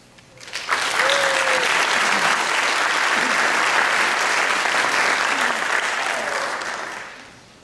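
Warm, sustained audience applause at a 2016 DMAC graduation ceremony swells quickly, holds as dense clapping from a large crowd, then tapers away, with a few faint cheers mixed in.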